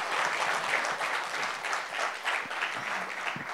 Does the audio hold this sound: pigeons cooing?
no